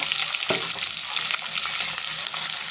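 Onion, green chilli and curry leaves frying in hot oil, a steady close sizzle throughout with a sharp burst near the start as the ingredients hit the pan, no voices.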